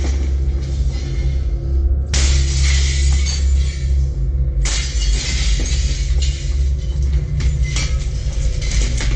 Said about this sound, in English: they heard glass shattering as the man broke into the house